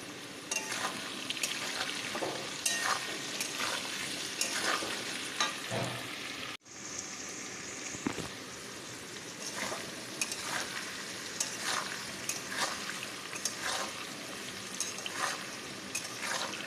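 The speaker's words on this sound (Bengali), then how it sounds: "আলু হচ্ছে এখানে ভাজা হচ্ছে।" Potatoes frying in a pan, a constant close sizzle with scattered clicks and light stirring scrapes, briefly interrupted once before continuing.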